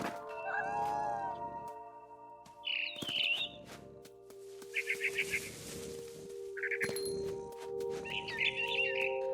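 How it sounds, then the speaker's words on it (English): Bird chirps and sharp calls of a barn swallow in What Remains of Edith Finch, in short bursts over game ambience, mixed with cat-like meows. "Then I heard chirping outside my window. It was a barn swallow going back to her nest."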